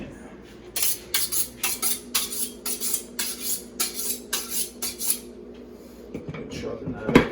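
A kitchen knife is drawn repeatedly across a sharpener, about a dozen steady rhythmic metallic strokes up close, then a clatter as it is set down while prepping red onion and habaneros for a stir fry.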